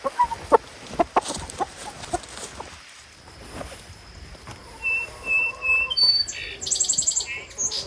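Roosters and chickens in a goat barn cluck in quick, uneven bursts, nearby and fairly clear, with a few higher chirps and squawks building toward the end.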